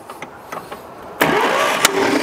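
Old abandoned truck engine being cranked back to life after a rebuild: a few quiet clicks and turns, then the engine catches abruptly and roars into a loud, rough idle with a brief louder rev near the end.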